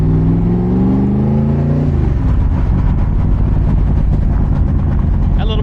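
Cobra sports car with a big cam and carburetor, cruising: a loud, close V8-style engine drone with rising gear pitch, then a rough, crackling idle burble over the road noise.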